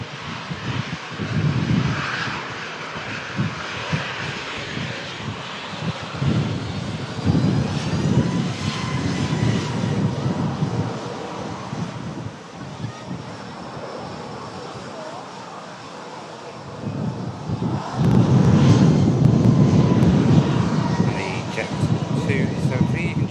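Boeing 737-800 jet airliner arriving at Manchester Airport from Tirana, a steady broad engine roar throughout that swells louder near the end, with a commentator talking over it.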